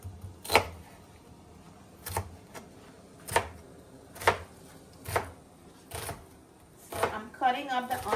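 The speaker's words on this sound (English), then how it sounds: "Cutting up the onions" Knife cutting onions for a Guyanese shine rice and smoked fish dish: a steady series of about eight separate sharp chops on a board, close and fairly loud, with no one talking.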